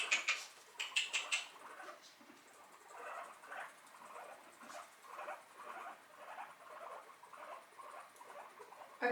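Several guinea pigs chatter and squeak in quick, uneven bursts during a tense bonding attempt, with close, soft patter-like sounds running steadily throughout and no voices.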